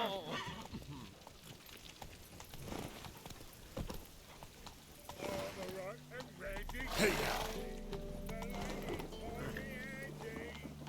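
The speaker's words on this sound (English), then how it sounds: "Alright, I need my horse." Hooves clip-clop steadily from a horse in The Witcher 3 video game, with a brief whinny-like burst and game music and voices over it, moderately loud throughout.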